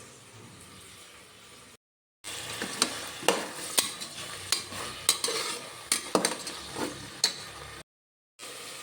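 Frozen peas are stirred into frying onions in a pan for veg Hyderabadi biryani, with repeated scraping spoon strokes over a soft sizzle, framed by brief silent gaps.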